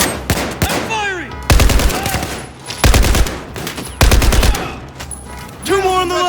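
Loud, close gunfire fills combat in the video game Battlefield 4, with heavy repeated bursts and fusillades in several waves. Shouted voices and whistling tones are mixed in among the shots.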